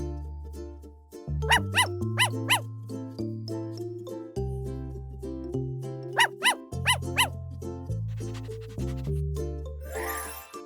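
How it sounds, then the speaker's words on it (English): A dog barks in two quick clusters of about three yaps each, sharp and close over continuous background music, with a faint jingle near the end. "Dog."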